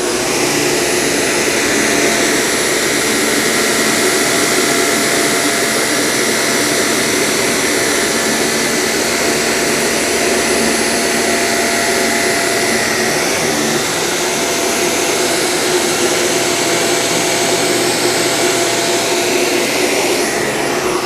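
A Shark Apex Powered Lift Away DuoClean vacuum cleaner runs over matted carpet with a loud, steady motor drone and airflow roar that continues unbroken from start to finish, with no voices.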